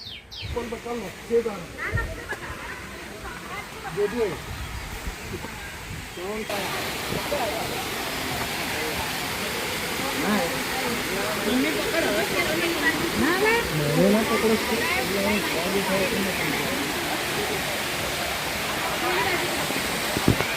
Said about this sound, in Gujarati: તમને પાણીના ડોઝનો અવાજ આવતો હશે